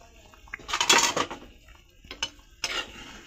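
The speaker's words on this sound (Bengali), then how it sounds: "আমি এখন ওই যে সিদ্ধ করা মূলাগুলা দিয়ে দেবো দিয়ে ভালো করে কষামো" A utensil scrapes and clatters in a cooking pot as boiled radish and fish are stirred together, a few short close bursts with quiet gaps between them.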